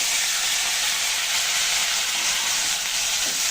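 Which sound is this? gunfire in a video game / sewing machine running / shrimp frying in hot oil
shrimp frying in hot oil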